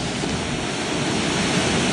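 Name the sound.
water surging into a rock pothole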